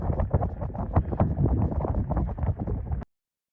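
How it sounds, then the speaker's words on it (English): Strong wind buffets a microphone on a bridge near Kennedy Space Center during a rocket launch, a dense, gusty low roar that fills the clip without a break, then cuts off abruptly. "It was really windy on that bridge that day."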